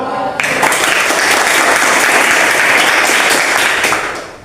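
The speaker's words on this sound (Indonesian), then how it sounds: "Tepuk tangan dulu." A classroom crowd claps steadily for several seconds, a dense, loud burst of applause that starts abruptly and fades slightly at the end.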